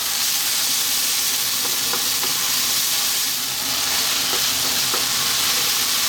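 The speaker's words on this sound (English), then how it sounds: "Keep it moving all the time now, 2 minutes, stirring," Bacon and cream pasta sauce with peas is stirred constantly in a hot pan, producing a dense, continuous sizzle and hiss with soft scraping of the spoon throughout.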